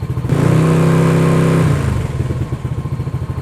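A motorcycle engine revs up hard and holds a loud, close roar, then drops back to a rapid, steady putter at idle, no talk.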